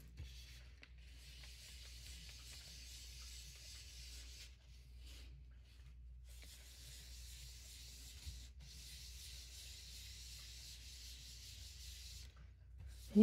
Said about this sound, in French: simplement faire ressortir mes motifs avec ma brosse estompe. Comme ça ici.